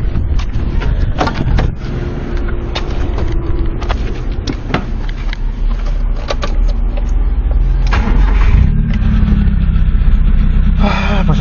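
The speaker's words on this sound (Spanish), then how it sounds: "Vamos a proceder a arrancar el carro a ver qué pasa." A 1993 Nissan Tsuru with a red-top engine that had been stalling and refusing to start cranks and catches, then settles into a loud, steady close-up idle that holds to the end.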